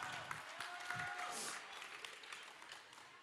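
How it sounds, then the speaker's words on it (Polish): Audience applause at a Ninja Series obstacle course event, a faint, distant wash of clapping from a crowd that swells slightly then slowly fades. "Jeszcze raz wielkie brawa!"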